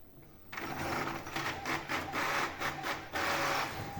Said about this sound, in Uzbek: ikkita varaqdagi faylimiz bitta varaqda printerimiz chiqarib berdi.